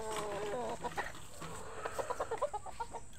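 A Sweater line gamefowl rooster clucks in a quick run of short, clear calls close by, over a faint steady background hum.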